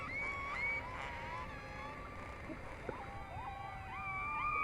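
Whale calls in the underwater video game Beyond Blue: faint, wavering high-pitched mewing cries that glide up and down in long overlapping tones, distant and thin over a soft hiss, with no voices.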